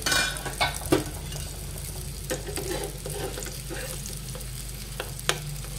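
Surmai fish fillets frying in a pan on medium heat, a soft steady sizzle with a few light clinks of utensil against the pan, fairly quiet and close.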